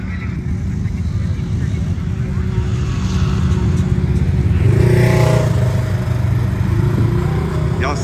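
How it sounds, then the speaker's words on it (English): ATVs and trucks revving while doing donuts downtown in Dallas during an ice storm: a loud, continuous engine drone that swells around the middle with a rising rev, with a voice briefly over it. "Man, they fooling out here with them ATVs."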